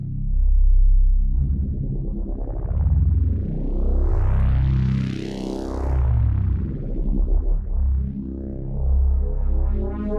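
An Omnisphere 3 synth pad runs through a polyphonic frequency shifter controlled by aftertouch, giving loud, dense tones whose pitches glide upward in sweeping diagonal bends, several overlapping swoops rising and settling over about ten seconds with no voices.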